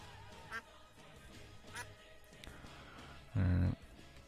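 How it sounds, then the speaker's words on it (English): A duck in the game Terraria gives a single loud, buzzy quack late in the passage, preceded by faint soft blips over a quiet background. "There's a duck."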